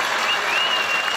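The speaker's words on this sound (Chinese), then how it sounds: "我们掌声鼓励一下。" Crowd applause at an elementary school's 70th anniversary celebration, a brief dense burst of clapping, loud and even throughout.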